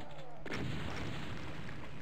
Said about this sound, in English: That double barrel explosion kind of made up for it.